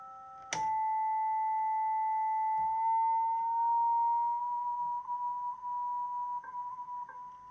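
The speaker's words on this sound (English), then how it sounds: "First of all, we can hear this continuous tone." A faulty Kenwood TS-180S amateur radio transceiver puts out a steady, continuous electronic tone that holds level for about seven seconds after a brief click at the start, with slight wavering near the end.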